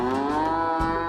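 A buffalo moo used as a comedic sound effect, one loud, sustained, droning low call heard alone.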